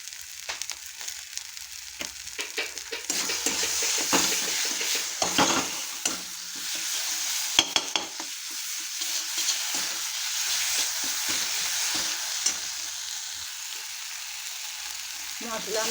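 Spices for a jackfruit-and-prawn curry sizzle and fry in a pan with turmeric and sugar, a steady bright hiss broken by repeated scraping stirs, close and fairly loud with no talking.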